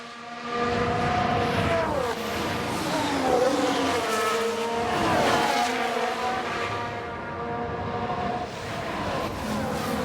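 Aston Martin race car engine in F1 Manager 22, set in a 1992 season, roaring loudly with rising and falling revs as it passes, tires squealing faintly, with no talk over it.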